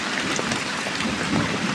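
Steady rain falls across a backyard vegetable garden, a dense, even hiss with no talk and no distinct drops standing out.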